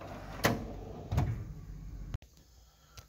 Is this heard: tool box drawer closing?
yes